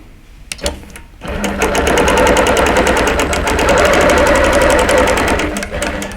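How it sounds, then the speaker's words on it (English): A longarm quilting machine stitches a pantograph pattern, its needle hammering in a fast, steady mechanical rhythm after a brief start, loud and close with a constant motor hum underneath. "the head of the machine is in the way of my stitching where I need to go"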